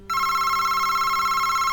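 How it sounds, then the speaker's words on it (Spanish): A telephone rings loudly and steadily with a bright electronic tone that starts abruptly and holds unbroken, alone, close by. "oyó que el teléfono estaba sonando"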